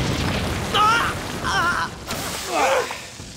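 Cartoon dynamite explosions in a jungle during a prehistoric mission, heard as three separate booming bursts with whooshing, warbling tones, fairly loud and spaced about a second apart.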